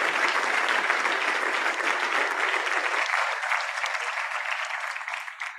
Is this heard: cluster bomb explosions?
no